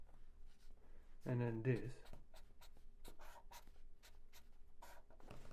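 Pen or pencil strokes scratch across paper in quick, short bursts, with a voice speaking briefly in the middle and a faint steady background hum.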